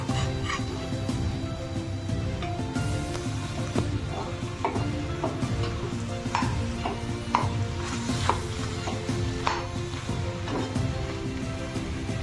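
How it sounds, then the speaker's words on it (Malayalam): Potatoes are stirred into a samosa filling in a pan: a continuous sizzle with scattered clicks and scrapes of the spoon, and a faint musical tone running underneath. "ഇനി ഇതിലേക്ക് ഉരുളൻകിഴങ്ങ് ഇട്ട് നന്നായി ഇളക്കി യോജിപ്പ് വരുത്താം"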